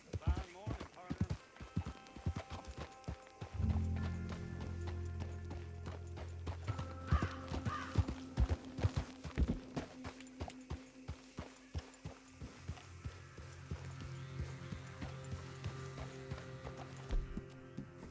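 Horse hooves clip-clop steadily in the Western video game Red Dead Redemption 2, a loose walking rhythm of hoof strikes with a brief whinny, under moderate game ambience.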